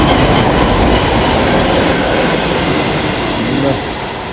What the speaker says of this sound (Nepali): यहाँबाट चाहिँ अब ट्रेन चढेर जाने हो